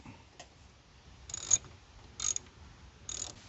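Ratcheting clicks come from tightening the brake caliper bolts on an ATV, three short faint bursts of mechanical clicking separated by quiet pauses.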